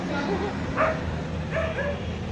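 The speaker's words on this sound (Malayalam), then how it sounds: "പട്ടി കുരയ്ക്കുന്നു" A dog barks a couple of times at a distance, short yips standing out over a steady background hum.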